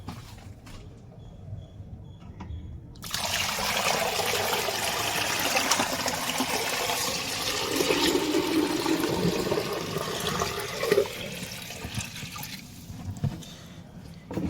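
Water holding moina is poured from a container into a fine net, giving a steady close splash and trickle for about ten seconds before it tapers off into drips.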